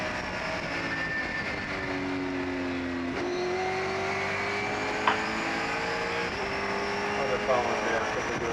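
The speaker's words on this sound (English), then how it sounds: "the next car for Liebenberg to attempt to overtake would be Davis in that number 8 Roush" Race car engines drone steadily at a vintage Reunion race, including a 1984 Pontiac Firebird and a Roush Mercury Capri, with a car passing by and faint tire noise, under a commentator's voice.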